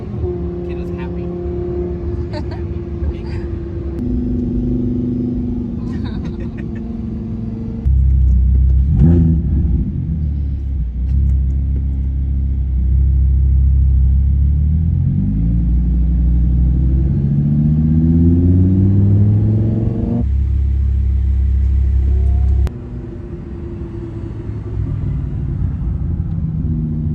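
Lamborghini Huracan driven on the road, its engine rumbling deep and close with repeated revving swells that rise and fall, cabin chatter over the top and a shift in tone as it passes an underpass.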